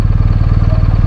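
A BMW R1250RT motorcycle's boxer engine runs loud and close, holding a steady, rapid, pulsing low throb with no voices.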